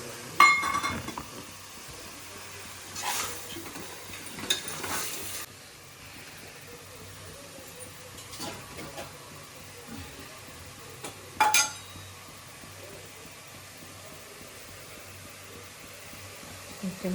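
Field beans and spices such as chilli powder and turmeric are stirred in a pan for a tomato rice dish, with scattered clinks and scrapes of a spoon over a steady soft hiss of cooking.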